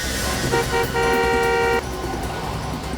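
A car horn honks in a steady blare, sounding loud and close for about a second, over the constant rumble of a vehicle driving on a village road.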